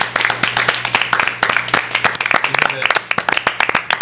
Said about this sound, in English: I would just like to have a quick round of applause.